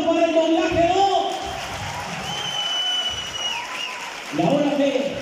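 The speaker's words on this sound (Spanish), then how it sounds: "¡Aplauso para el doblaje 2!" Audience applause rises briefly under a lively room, with a voice talking over it at the start and again near the end as the clapping thins.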